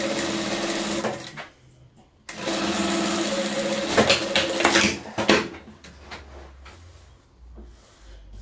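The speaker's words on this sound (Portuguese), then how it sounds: "E vamos costurar." A sewing machine stitching fabric scraps for a patchwork table runner, running loudly and steadily, pausing briefly, then resuming with a rhythmic mechanical whir before slowing and stopping, with faint background sounds.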